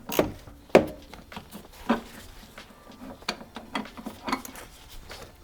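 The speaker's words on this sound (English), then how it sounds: "I think it will be easier to loosen the bolts first" A ratchet works loose the seat bolts inside a Volvo 850R, giving scattered clicking bursts and a few sharper metallic snaps at close range, with no talking.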